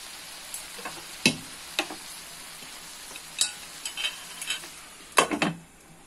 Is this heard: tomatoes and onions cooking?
yes